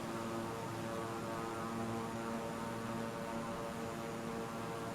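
An aircraft flies low over New York in Microsoft Flight Simulator 2020, with a steady, fairly quiet engine drone that holds throughout, alone and without talk.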